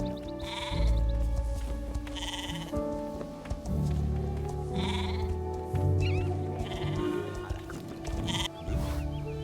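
Repeated sheep bleats in a video game (Star Stable Online), several loud calls in a row with short gaps, close by and alone without talking.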